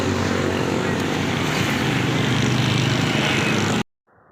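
A 125 motorbike engine running, a steady loud droning hum close by that cuts off abruptly near the end.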